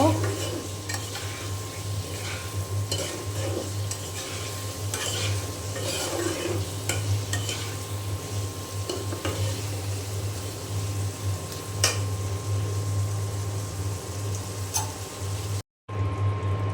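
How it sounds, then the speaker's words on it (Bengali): Potatoes sautéing with spices in a pan, a steady close sizzle with repeated spatula scrapes and stirs throughout, under a constant low hum, no talk. "এখন আলু খুব মশলার সাথে ভালো করে কষিয়ে নিব।"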